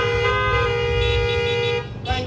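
A car horn sounds in a sustained, loud tooting blast lasting nearly two seconds, followed by a brief second honk, with traffic rumble underneath and no talking.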